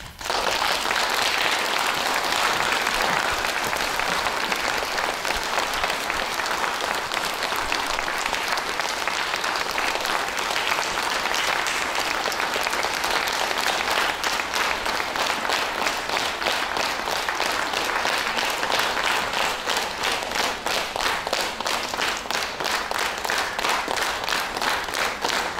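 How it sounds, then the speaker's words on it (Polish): Sustained audience applause fills a theatre after a staged performance with live music, dense steady clapping holding at an even loud level from start to finish with no voices rising above it. "Wielkie brawa."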